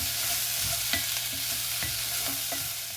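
Chopped carrot and vegetables fry gently over low heat, giving a soft, even sizzle and occasional scrapes and taps of a spoon stirring the pan.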